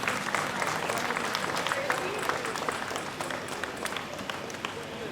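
An audience at a celebration event applauds after a speech, a dense, steady wash of many hands clapping at an even level throughout, with voices mixed in.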